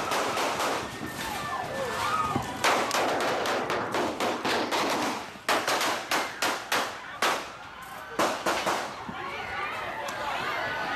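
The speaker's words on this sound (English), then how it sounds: "Those are shots actually being fired toward the stage." Gunshots fired toward the stage inside a crowded nightclub, a ragged series of sharp cracks in quick clusters, some rapid and repeated, over background crowd noise and music.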